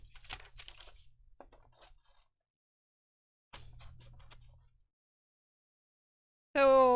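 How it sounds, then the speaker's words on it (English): Scissors cut through paper in short crisp snips and rustles, two bursts of cutting separated by a quiet gap, then a brief tonal sound at the end. "I'm going to go ahead and cut. I think I'll just use scissors."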